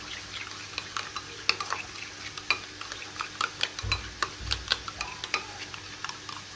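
Breakfast ingredients mixed in a bowl with a squeeze of lemon, a spoon making quick repeated taps and scrapes in an even rhythm, close and quiet.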